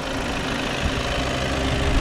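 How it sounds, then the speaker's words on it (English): A steady, low mechanical rumble of a Volkswagen Golf 8 2.0 TDI 150 HP diesel engine idling nearby, continuous and even with no voices. "Well, this is the engine."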